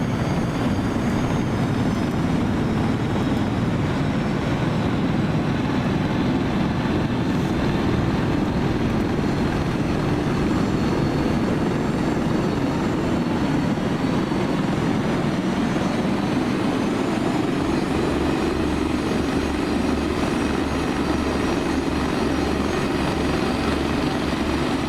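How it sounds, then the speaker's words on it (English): The Airwolf jet helicopter from a TV show, a loud, unbroken droning whine of turbine and rotor that holds steady throughout, with no voices over it. "The jet helicopter, Airwolf."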